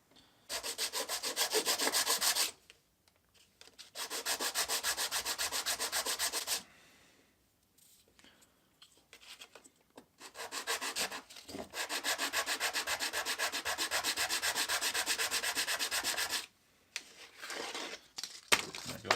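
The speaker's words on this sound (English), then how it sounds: "I don't like to sand these too much because I feel like it's too easy to just round the corners off" Sanding a wooden bushcraft knife handle by hand: long, steady bursts of dry abrasive rubbing, close and fairly loud, separated by short pauses.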